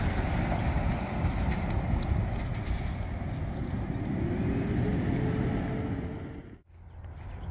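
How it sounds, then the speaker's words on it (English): Garbage truck rumbling past outdoors, a loud steady low engine roar that holds for several seconds, briefly dips, then picks back up. "Oh, stinky trash truck."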